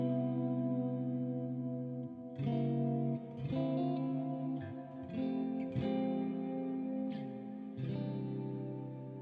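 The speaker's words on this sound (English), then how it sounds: "it's already got a pretty good amount of reverb when I dime it" Electric guitar through a Wampler Ethereal reverb and delay pedal set to heavy reverb, a few sustained chords ringing out with long, spacious, echoing tails that overlap between strums, no talking.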